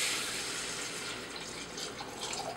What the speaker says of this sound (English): Just add your water in there.